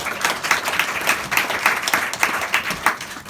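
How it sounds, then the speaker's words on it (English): An audience at a forum claps in a loud, continuous burst of applause, dense and steady throughout with no voices on top. "give him a big round of applause."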